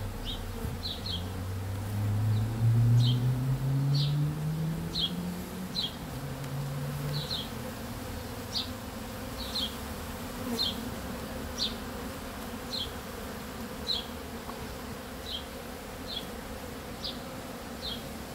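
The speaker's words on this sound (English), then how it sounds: "So just scooping up handfuls of bees," A swarm of honey bees buzzes steadily while a hive is relocated and the bees are scooped up by hand, with a low rumble underneath and short, repeated higher buzzes from bees flying close by.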